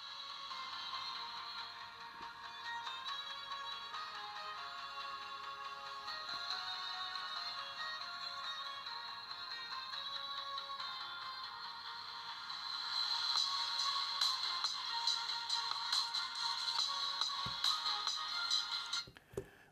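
Thin, tinny music plays from the small loudspeaker of a Zeblaze Ares 3 smartwatch, quiet and bright throughout, growing somewhat louder toward the end before cutting off.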